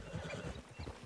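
Horse hooves clip-clop in a steady, rhythmic gait in Red Dead Redemption 2, close and fairly loud for the whole moment, with no talking over them.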